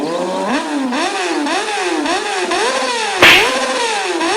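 A cartoon motorcycle rides over a shopkeeper's goods. Its engine revs up and down in a repeating, wavering whine, then a sudden loud crash bursts out near the end.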